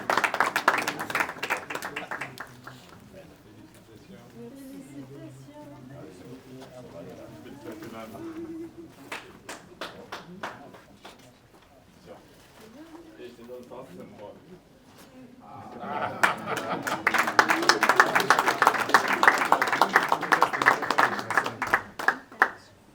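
A graduation audience claps as a graduate is called, with a loud burst of applause at the start, a quieter stretch of scattered claps and talking, then a second strong swell of clapping near the end.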